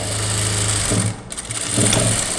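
A sewing machine stitches the side seam of a blouse with a steady, loud, close mechanical whir. It falters and slows briefly in the middle, then runs on again, with no talking.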